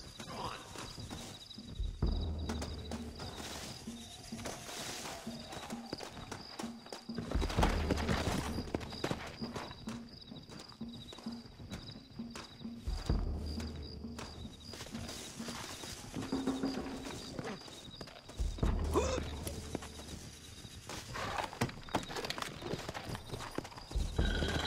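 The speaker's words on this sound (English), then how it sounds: "Looks like Carlos left us some horses." Horses in the video game Red Dead Redemption clip-clop along at a brisk gait, repeated hoofbeat runs broken by brief pauses, with whinnies, game sounds and occasional voices around them.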